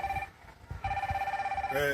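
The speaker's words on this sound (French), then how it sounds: "arrête un peu le téléphone qui sonne là" Telephone ringing with steady electronic tones in two bursts, heard close under a voice talking alongside it.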